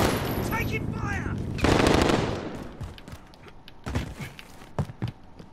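Rapid machine gun bursts from Call of Duty Modern Warfare, loud and close at first, then scattered shots and thuds fading into the background as the firefight continues.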